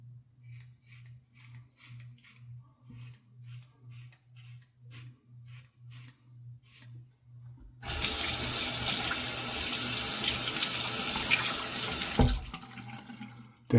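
Water runs steadily from a tap into a sink while rinsing after a wet shave, loud and continuous for several seconds before cutting off, preceded by a soft rhythmic ticking.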